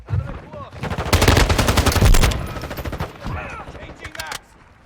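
AK rifle fire in Call of Duty: Modern Warfare 2 multiplayer, loud rapid bursts and single cracks over several seconds with in-game effects and someone talking in between.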